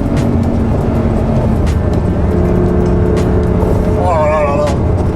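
A Lamborghini Gallardo V10 roars loud and close on a country road, its engine note rising in pitch and sweeping upward near the end, with a voice talking over it.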